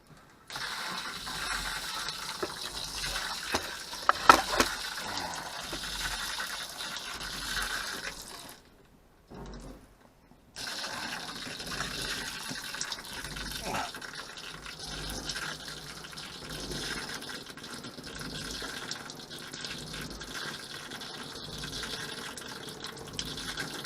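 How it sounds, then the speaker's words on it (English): Pink RV antifreeze sprays through a shower nozzle during winterizing, a close hissing, spattering flow with a brief break midway before it resumes steadily. "Let's run some through the shower nozzle here."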